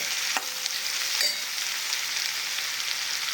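Onion frying in a pan over a raised gas flame, a steady, even sizzle with faint crackles and one or two stirring scrapes, close and alone.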